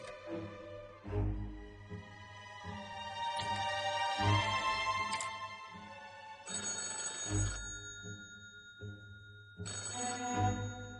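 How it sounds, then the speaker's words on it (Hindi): A telephone bell rings in a Hindi-dubbed Turkish comedy drama scene, in repeated clear bursts with short gaps between them, loud and close, with music-like tonal layers and no talking. "वेली आसिमोग्लू का फोन"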